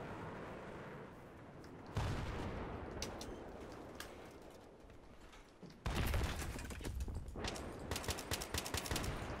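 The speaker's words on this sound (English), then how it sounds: "I think there's a sniper. He's shooting at me." Battlefield 3 gunfire rattles in dense, rapid bursts, with a loud volley starting abruptly and a heavier barrage kicking in later, continuous and close with no voices.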